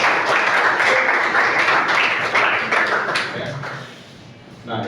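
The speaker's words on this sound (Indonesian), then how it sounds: "tepuk tangan buat kita semua" A group of teachers at a school workshop session applauds themselves, a dense round of clapping that gradually thins and fades toward the end.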